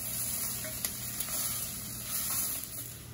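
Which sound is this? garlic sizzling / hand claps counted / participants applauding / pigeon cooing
garlic sizzling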